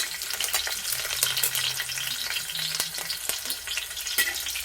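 Green chilies and shallots frying in hot oil in a pan, a dense close sizzle with crackling pops and occasional sharp stirring scrapes.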